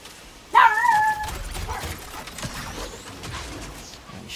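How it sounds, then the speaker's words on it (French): A dog in the video game Jedi: Survivor gives one loud, sharp yelping bark close by, and faint game ambience continues afterward. "il est chiant ce chien à gueuler comme ça"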